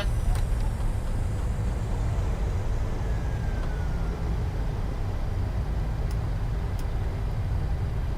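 In Microsoft Flight Simulator, the thrust reversers of a PMDG 737-600 airliner deploy during landing, making a loud, continuous broadband jet roar that holds steady for about eight seconds, with no talk over it.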